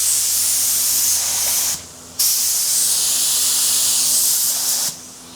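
A spray gun lays Eastwood epoxy sealer onto a 1965 El Camino in loud, sustained hissing bursts, the first running about 1.7 seconds and the second about 2.7 seconds, with short quiet pauses between them.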